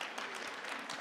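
A congregation at a worship gathering applauds in a brief, steady burst of indoor clapping heard faintly from a distance.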